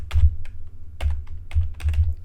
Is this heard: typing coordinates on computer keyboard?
yes